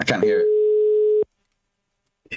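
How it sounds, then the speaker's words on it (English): A single steady ringback tone on an outgoing phone call sounds for about a second after a brief burst of talk, then silence follows until faint talk resumes. "It's a weird ring."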